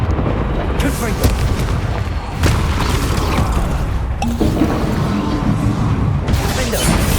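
A Confringo spell explosion in Hogwarts Legacy, heavy booming blasts and rumbling over a dense, continuous game soundscape, loud and close, with a few sharper bursts spread across several seconds.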